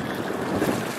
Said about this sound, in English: Now I got to pedal directly into the wind.